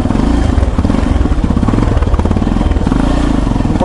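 Motorcycle engine running steadily as the bike rides off at night with its headlight switched on, a close, loud continuous drone with rhythmic mechanical clatter throughout.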